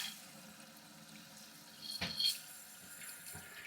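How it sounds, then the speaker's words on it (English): A toilet tank refills with water after its supply line is turned back on during a wax ring replacement, a soft, steady hiss of running water with a brief splashy swell partway through, heard alone and fairly faint. "we'll get the toilet filling back up"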